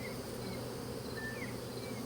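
Honey bees buzz steadily at an open hive box holding brood and pollen, a dense, even drone with no voices.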